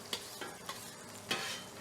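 Onions pressed down into a hot pan for egg fried rice, giving a steady close sizzle with a few sharp scraping strokes of a spatula, no voices.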